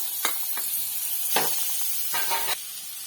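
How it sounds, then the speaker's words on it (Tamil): Butter sizzles as it melts in a pan, with several short bursts of crackling hiss over a quieter steady fizz. "இப்போ பட்டர் மெல்ட் ஆயிடுச்சு"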